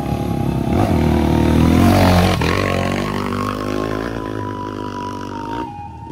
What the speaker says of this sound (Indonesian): ini ada motor trail lagi, kena